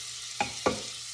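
A steady, faint sizzle of butter and oil frying dandelions in a pan, with two short clinks or scrapes of a utensil stirring.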